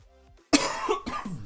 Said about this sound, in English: Trying to limit the sound of the cough.